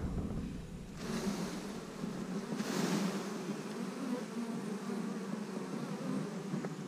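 Steady, dense buzzing of many honeybees close by at a hive from a swarm, a continuous droning hum with no voices.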